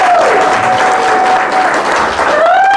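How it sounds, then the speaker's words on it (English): Loud, sustained applause from a live music audience at a band performance, steady clapping filling the room with a faint voice or tone gliding over it. "everyone, please give them another big round of applause"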